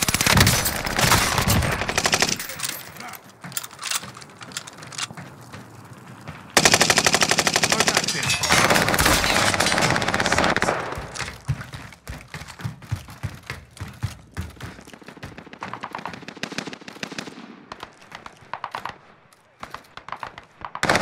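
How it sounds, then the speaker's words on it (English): Bursts of automatic gunfire crackle through a battle royale firefight at industrial docks, heavy rapid volleys at first, then scattered shots and sharper sporadic cracks in the later half. "I'm taking fire."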